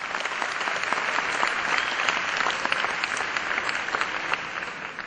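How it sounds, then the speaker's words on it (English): An audience applauds performers at an evening school speech, drama and performing arts show, producing steady, dense clapping that holds at an even level throughout with no voices over it. "And as they take your applause"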